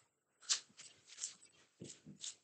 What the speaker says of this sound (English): And I'm gonna shuffle.